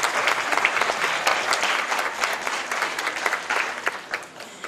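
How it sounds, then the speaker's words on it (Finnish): Audience at the Nastola Miss Twang & Twist 2022 twang guitar festival applauds last year's winner Kitty M, a lively round of close clapping that peaks early and gradually thins toward the end. "Annetaan aplodit Kittylle"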